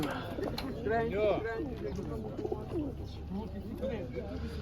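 Pigeons coo in soft, rolling phrases close by at a pigeon show in Ivano-Frankivsk, several calls overlapping against a steady low background hum.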